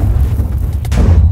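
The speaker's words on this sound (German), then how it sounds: "Okay, das ist Zeit für eine Granate." Grenade explosion in the Minecraft Iron Fall game: a loud, deep rumbling boom filling the whole short moment, close and heavy with low-end roar.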